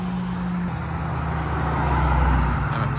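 A modified car pulls away from a Japanese car meet in Reading, its steady low engine drone close by and rising slightly in loudness as it leaves, with no voices over it.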